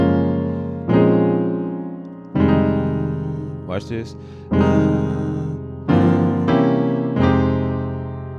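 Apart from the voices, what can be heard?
inverted chords played to modulate keys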